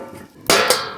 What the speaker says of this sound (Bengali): এবার একটু ঢেকে দেবো